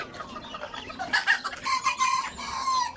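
Young Egyptian Fayoumi chickens kept together in a room give a steady chorus of overlapping peeps and clucks, close and lively, with no talking.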